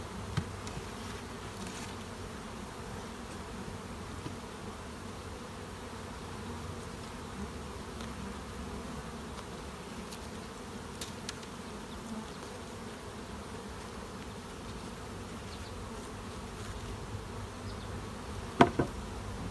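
A dense, steady hum of honey bees buzzing around a hive super during a honey harvest, continuous and close, with a few faint clicks and a sharp knock near the end, no voices.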